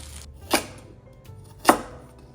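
A knife chops carrots on a cutting board in two sharp, close, separate strikes about a second apart, with quiet between them and no voices.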